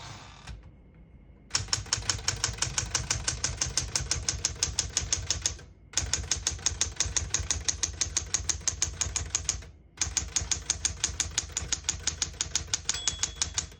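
Rapid, steady keystrokes clatter on a 1967 Smith-Corona Super-Sterling portable typewriter, close and crisp, in three long bursts broken by brief pauses, likely carriage returns.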